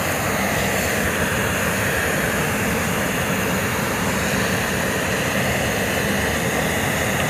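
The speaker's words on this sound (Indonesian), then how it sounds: "suara anginnya kenceng banget" Strong wind roars in a steady, dense rush across a hillside, loud and unbroken throughout with no voices.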